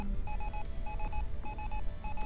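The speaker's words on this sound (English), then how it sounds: "We are going to turn off this alarm" A ship alarm in the space game Ostranauts beeps in quick electronic pulses, grouped in short repeating bursts over a low background hum.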